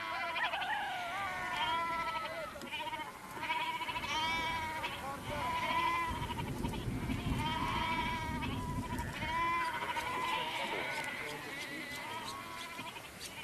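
A goat at a rural settlement in Iran bleats repeatedly, with wavering cries over about thirteen seconds, while a voice talks steadily over it.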